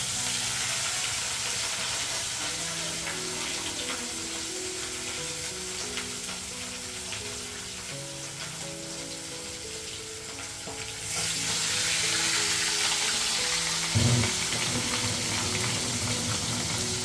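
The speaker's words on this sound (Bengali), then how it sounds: "আমি ভাজতে দিয়ে দিয়েছি তনু বলল মা মাছটা তুমি ভেজে দাও" Fish frying in a pan gives a steady, loud, close hiss and sizzle throughout, swelling brighter partway through, with a brief clunk near the end and no voices.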